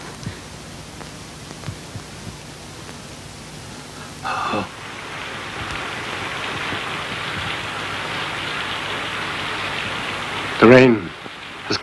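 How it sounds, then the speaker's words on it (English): Steady rain falls in the background as a constant soft hiss, growing a little louder partway through, with a few sharper knocks and bumps on top. "Rain has come at the right time."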